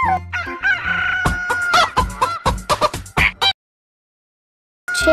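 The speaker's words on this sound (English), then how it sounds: "Chickens." Chickens cluck and crow in the Paint & Animals video game, a dense run of loud, close calls and squawks for about three and a half seconds, then a short silence before another call begins.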